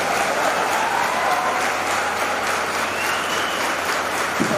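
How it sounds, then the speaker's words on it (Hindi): A crowd at a speech and calibration gathering breaks into sustained, uniform applause that stays full and steady for several seconds, with a faint tone humming underneath. "अरे तालियां बताओ"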